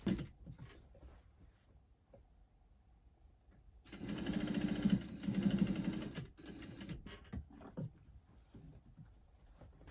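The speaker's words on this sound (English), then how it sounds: "So I'm just going to take this to my sewing machine and I will just start sewing this on." A sewing machine stitches a patch onto a burgundy extra-large sweatshirt, running in a steady whirring burst of about two seconds with a short pause midway, surrounded by quieter handling sounds and brief starts.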